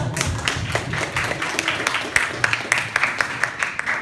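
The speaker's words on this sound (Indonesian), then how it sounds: "Tepuk tangan untuk kita semua." Clapping from an audience at a university students' community service presentation in Bogor, a steady patter of hands filling the room for a few seconds beneath a hum of background noise.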